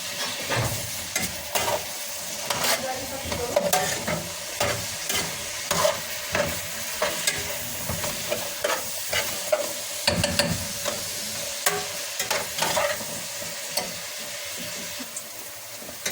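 Ingredients frying in a little oil for Egyptian eggah, a constant close sizzle with a busy run of spatula scrapes and knocks against the pan throughout, no voices.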